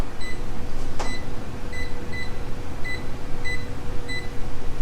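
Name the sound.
kitchen timer being set, beeping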